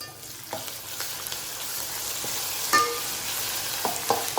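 Chilies, curry leaves, garlic and coriander fry in a pan with a soft continuous sizzle while a spoon stirs them, giving occasional light scrapes and taps.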